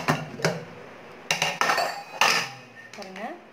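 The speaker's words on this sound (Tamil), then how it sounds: "குக்கர் வந்து கேஸ் போயிடுச்சு. இப்போ நம்ம திறந்து பார்க்கலாம் எப்படி இருக்குது அப்படின்ட்டு." Metal pressure cooker lid and steel pots clink and clank in a kitchen after cooking dal, with several sharp knocks and scrapes, then a faint hiss and a brief voice.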